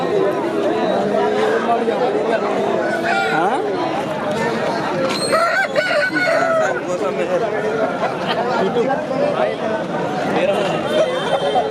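Roosters crow amid a busy fighting-cock market, with clucks and crowing rising over a steady crowd chatter as people talk and haggle nearby.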